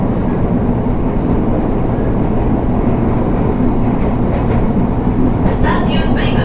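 A KRL commuter train on the Tanah Abang–Rangkasbitung line runs between stations, a steady loud rumble of wheels and motor filling the whole stretch, with faint higher squeals and rattles toward the end.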